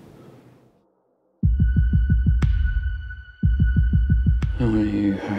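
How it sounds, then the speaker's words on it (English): Loud, close heartbeat sound effect in a Netflix crime-drama trailer: two bursts of steady, heavy, booming thumps, about eight beats each, separated by sharp high stingers and followed by music. "Can I listen to your heartbeat?"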